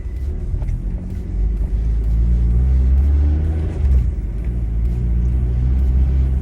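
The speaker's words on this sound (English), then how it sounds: "Car's still warming up." A Honda Civic Type R FN2 engine, around 400 bhp, idles while warming up with a steady low rumble, close and loud, holding a constant drone throughout.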